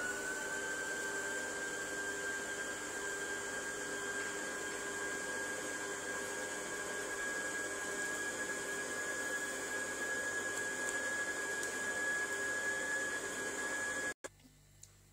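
An electric mixer whirs steadily and close by, beating a sesame cake batter with a constant high whine, then stops abruptly near the end.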